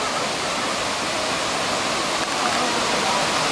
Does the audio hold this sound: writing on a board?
no